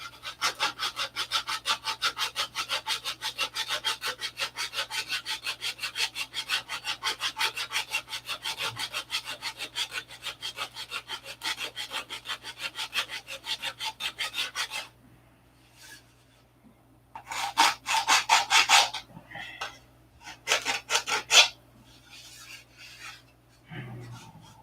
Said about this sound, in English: Get some more of this hardwood off the edge. Get it sanded down to 1/8 inch at least on the hardwood.